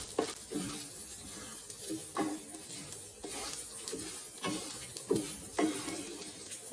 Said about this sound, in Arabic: راح نحمس الشعرية لحد ما يصير لونها جوز